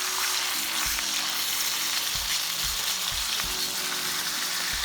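Pork chops fry in a cast iron pan with a loud, constant sizzle and spatter, alongside low intermittent bumps and scraping as the pan is handled, with no talking.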